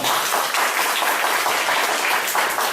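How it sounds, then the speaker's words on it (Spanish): A church congregation applauds steadily, dense clapping filling the space at a constant, loud level throughout. "Un fuerte aplauso para los bautizados."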